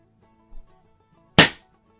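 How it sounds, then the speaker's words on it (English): A Proton X2 air pistol fires once on a refilled HPA cylinder, a single sharp crack after a faint click of handling, then silence. "that sounded exactly the same as when you fire a CO2 cartridge"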